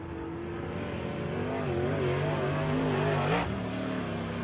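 Race cars roar around the oval at Lake of the Woods Speedway during a season opener, a continuous loud engine drone with rising and falling pitch as a car nears and passes close by.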